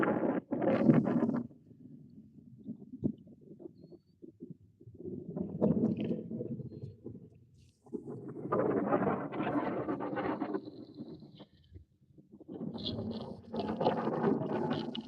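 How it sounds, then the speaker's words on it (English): Wind at the Lake Mojave marina buffets the microphone in low rumbling gusts that come and go across the stretch, loud in bursts with quieter lulls between. "The beautiful marina area of Lake Mojave with some wind today."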